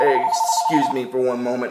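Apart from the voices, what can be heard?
handheld phone ringing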